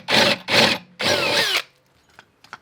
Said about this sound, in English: I'm going to have to drill a hole up in here